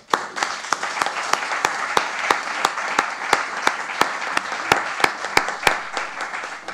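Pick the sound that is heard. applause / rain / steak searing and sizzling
applause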